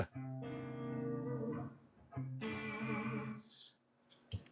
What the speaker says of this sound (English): that's the effects loop with the reverb.